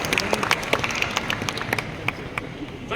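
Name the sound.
audience applause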